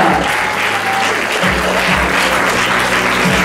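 Continuous, loud applause fills a theater during a stage play, many hands clapping together over soft low music.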